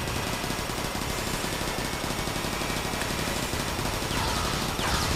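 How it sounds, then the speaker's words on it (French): Dense, continuous automatic machine-gun fire in the video game Transformers: Fall of Cybertron, loud and unbroken for several seconds, with no voices. "Et on a la mitrailleuse."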